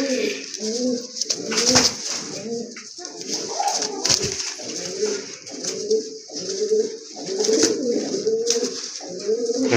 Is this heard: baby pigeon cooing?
yes